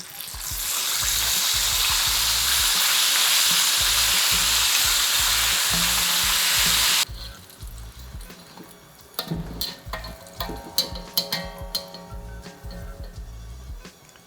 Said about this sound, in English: Now we're gonna do the second fry, and that's gonna crisp up the outside.